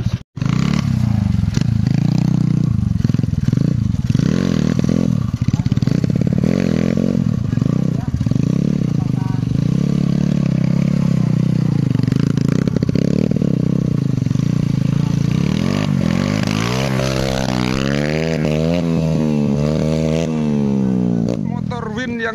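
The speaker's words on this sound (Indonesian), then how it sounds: "Motor Win yang tadi naik-naik ini" A Honda Win motorcycle performing wheelie stunts at a trail bike gathering on the Cibeureum circuit, its engine loud and close, droning and rising in revs with rapid pitch sweeps near the end, with clattering and scraping mixed in.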